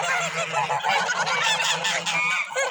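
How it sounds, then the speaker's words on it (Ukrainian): A flock of domestic geese honks loudly and continuously, overlapping calls forming a dense, noisy chorus close by. "для тебе відео знімаю твоїх улюблених єдинських гусей"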